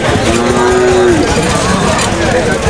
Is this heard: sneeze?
no